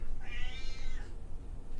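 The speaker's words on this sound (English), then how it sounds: "You know how cats just be making that noise?" A cat gives a single drawn-out meow lasting under a second, clear and close, over a low background hum.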